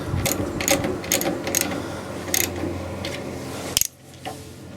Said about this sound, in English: that's a 1/2 inch ratchet socket. Okay, I'm just going to tighten those in.